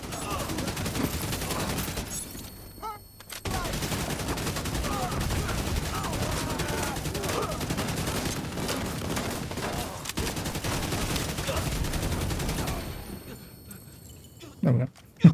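Rapid video game gunfire rattles in long sustained bursts, dense and loud, with brief pauses and a final sharp shot near the end.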